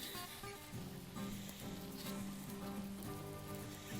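Strips of bacon sizzle directly on BBQ grill grates, a steady crackling hiss like light rain, with a faint low tonal hum underneath and no talking.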